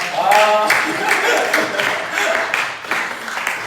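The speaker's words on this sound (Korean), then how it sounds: "박수 한번 칩시다" A church youth congregation claps together during a Sunday sermon, a short burst of dense applause that rises and fades, with a voice speaking over it.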